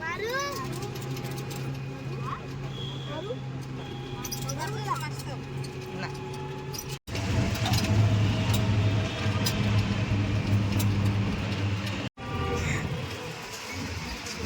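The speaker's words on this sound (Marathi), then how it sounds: "ही बघा आमची अजून एक रिक्षा मागून येत आहे" An auto rickshaw engine drones low and steady on the road, growing louder and rougher midway, under nearly continuous talking.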